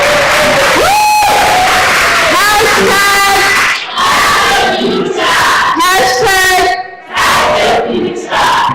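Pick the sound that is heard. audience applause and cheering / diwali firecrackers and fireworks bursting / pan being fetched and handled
audience applause and cheering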